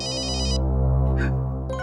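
Electronic phone ringtone in a TV crime drama, a bright repeating trill over a sustained tonal chord, ringing loudly and clearly with no voices.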